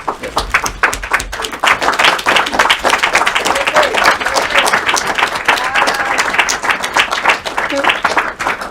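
Loud, sustained clapping fills the room as an audience applauds the winning group at a European Voice of Tomorrow event, with cheers and voices rising through the steady applause.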